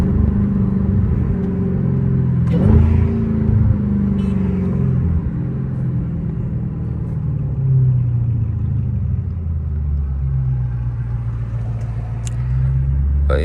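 A Dodge Hellcat cruises at night with a deep steady exhaust rumble that swells with light throttle, plus a brief rattle from inside the car, heard from the cabin with no talk.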